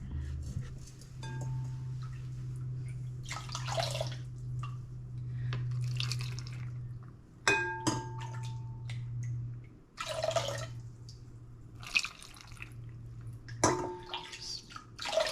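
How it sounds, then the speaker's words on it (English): Pickling liquid is ladled through a funnel onto Pink Lady apples in a jar, with intermittent splashy pours and drips between quieter stretches over a low steady hum. "pour your pickling liquid over the Pink Lady apples."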